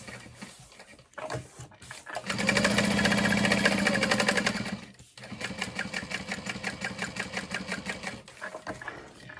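A sewing machine basting layers of fabric for a backpack runs in two bursts of rapid, even stitching, the first loud and sustained, the second a slightly lighter rhythmic patter, with short pauses and handling noise between.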